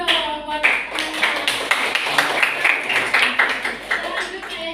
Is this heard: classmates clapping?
yes